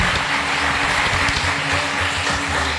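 Audience at a devotional Marathi discourse on the glory of the divine name claps steadily for Babaji, a dense continuous wash of applause filling the hall with no talk over it.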